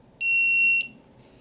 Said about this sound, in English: the gas badge will emit a single light flash and a warning beep